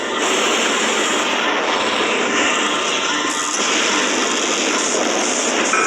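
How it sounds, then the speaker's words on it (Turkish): A helicopter in a video game flies past: a continuous broadband engine and rotor roar that stays loud and even the whole time, with slight shifts in tone partway through and no voices over it. "O da gidiyor helikopter."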